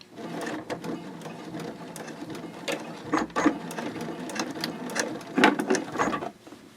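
A sewing machine stitches in the ditch on a boxy fabric bag at a 3.0 stitch length, a steady mechanical whir with rhythmic needle clatter and a few louder knocks, close and alone.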